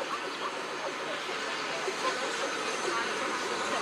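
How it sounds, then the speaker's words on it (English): Steam locomotive 34052 Lord Dowding arrives at Weymouth station on a railtour with a diesel on the rear, giving off a steady, broad hiss and rumble that fills the platform. "arriving in now is going to be the Royal Essex steam, terminating from Three Bridges"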